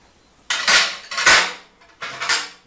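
A metal guide rail is slid into the slot of a Parkside PTSS1200 plunge saw, making three close, loud metallic scraping and clattering strokes separated by brief pauses.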